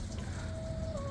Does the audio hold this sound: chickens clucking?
yes